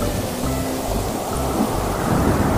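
A storm sound effect roars steadily with dense rain and wind over low rumbling thunder, loud and continuous throughout with no voices.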